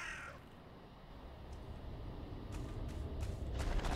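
A bird caws in Valheim against steady broadband game ambience, with a few sharp call bursts standing out later in the stretch; no talk over it.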